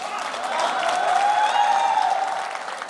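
Studio audience at a Hindi television debate show applauds in a short, brisk burst of many hands that swells and eases over about three seconds, with a faint tone sounding alongside.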